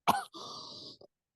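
A single short cough bursts out near the start, followed by a faint breathy throat noise and a second cough cut off at the end, close and isolated.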